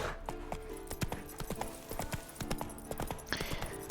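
Roach, a horse in The Witcher 3, gallops with rapid, rhythmic hoof clip-clops in a steady running beat, fairly close and moderately loud.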